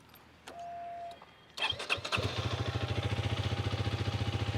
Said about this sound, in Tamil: இந்த கரிஷ்மா XMR210 எக்ஸாஸ்ட் நோட் எப்படி இருக்கு அப்படின்றத கேட்போம்.